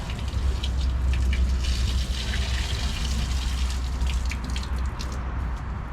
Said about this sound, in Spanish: Así el agua sale bien, no va haciendo blup